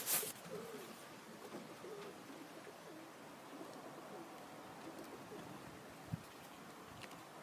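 Young pigeons cooing softly in a loft, a faint low murmur of coos and shuffling with a brief flutter near the start, steady background activity throughout.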